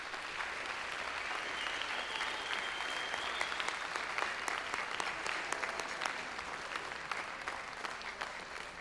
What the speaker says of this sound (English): So if you would give them a round of applause for that.